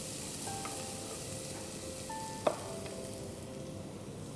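Finely chopped onions frying in a pan for Kolhapuri missal: a steady, even sizzle close by, with one brief sharp knock partway through and no voices.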